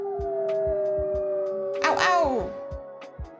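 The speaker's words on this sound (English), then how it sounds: "let's listen to what a wolf sounds like" A wolf howl plays from computer speakers, a rising then falling wavering cry in the middle, over a steady electronic hum and periodic soft clicks.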